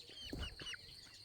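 Rooster and hens clucking nearby, a short run of soft, faint clucks and chortles in quick succession.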